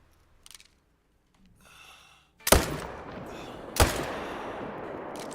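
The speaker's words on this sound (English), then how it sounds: "We are gonna shoot those two." Two loud rifle shots ring out about a second apart in theHunter: Call of the Wild, fired at mule deer, each a sharp crack followed by a lingering rumbling echo over a quiet outdoor ambience.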